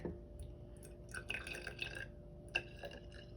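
Water poured into a density column of layered liquids mixed with dish soap, heard as soft, quiet trickling and dripping with a few brighter splashy bursts over a low background hum.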